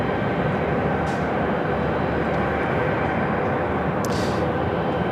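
A Singapore Airlines jet takes off at LAX, its engines a loud, steady, broad roar heard from nearby without letup, with a couple of faint brief clicks and no talking.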